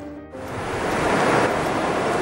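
Surf washing in at the water's edge on Torbay Beach, a steady loud rush of breaking waves that swells after a brief quieter moment at the start.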